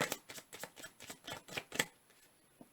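A deck of cards is shuffled close by in a quiet room, with a quick run of riffling snaps and flicks for about two seconds and then a single soft tap.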